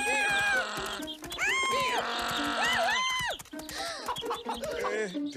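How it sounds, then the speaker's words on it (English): Chickens clucking and crowing in a stage performance of marching birds, bright repeated calls close up over a steady background. "And now the lovely Lulu and her marching chickies."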